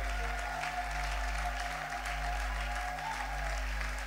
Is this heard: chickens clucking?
no